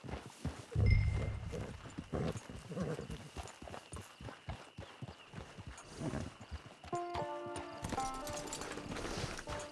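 Horse hooves clip-clop in a steady walking rhythm in Red Dead Redemption 2, with a neigh or whinny near the start and game music tones entering toward the end.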